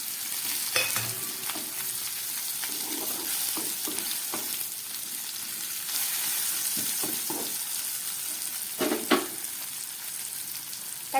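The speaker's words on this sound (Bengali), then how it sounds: "পেঁয়াজ রসুন কাঁচা লঙ্কা অনেকটাই ভাজা হয়ে গেছে" Onion, garlic and green chili sizzle in hot oil in a pan, a constant crackling fry broken by repeated scraping stirs and occasional spatula knocks.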